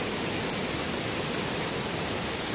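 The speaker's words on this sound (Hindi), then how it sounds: "बहुत अभी देख रहे हो ये पानी का कितना फुवारा आ रहा है मेरे मुंह पर" Rushing water at Lakkam Waterfalls in Munnar sends spray through the air, a dense, loud, unbroken roar of falling water with no talk.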